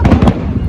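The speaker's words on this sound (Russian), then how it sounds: "Салют в честь вас." Fireworks burst in a celebratory salute, several loud close pops and booms following one another in quick succession before fading into a rumbling tail.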